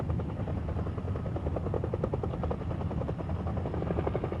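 A large cargo helicopter able to lift a 12-ton platform payload and carry 28 passengers drones steadily with rhythmic rotor beating, loud and continuous without a break.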